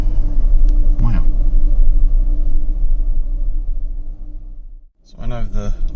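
A Saab 9000 engine idles with a steady low rumble close by, briefly cutting out before picking up again, while someone talks over it.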